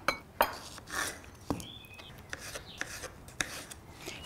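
A knife chopping cucumber taps and scrapes on a cutting board in quick, irregular strokes, with faint clinks in between, quiet and close.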